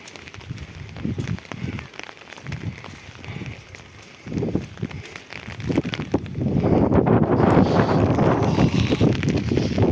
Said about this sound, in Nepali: हावाले दुःख दिइरहेको छ है।